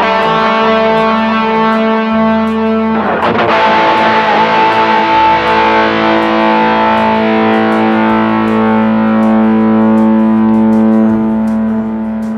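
A sustained distorted electric guitar chord through an 8Note Chrono Tap delay pedal rings out loud and close, with repeating echoes trailing behind it as new notes are struck.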